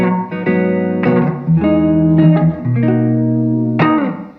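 Electric guitar played through an under-$100 Cumulus reverb pedal in studio mode, all knobs at noon: a loud run of sustained strummed chords with changes roughly every second, each ringing into a smooth wash of reverb, no voices.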